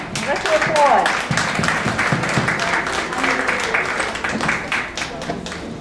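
An online talent show audience claps for the next act, a juggler and her father, a steady spread of applause under an announcer's voice.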